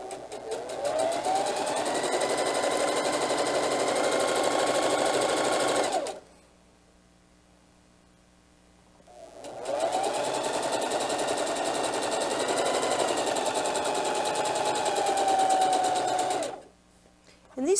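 A sewing machine stitches two raw edges of a diaper bag tote together in two long, steady runs separated by a pause, its rapid mechanical whir close and continuous.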